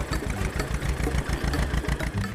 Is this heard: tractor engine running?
yes